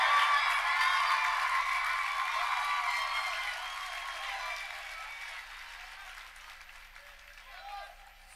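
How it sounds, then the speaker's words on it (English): Audience applause for the Conference Players of the Week at Ball State's Chirpies sports awards: sustained clapping that starts full and gradually fades toward the end. "everybody please stand, give everybody a round of applause"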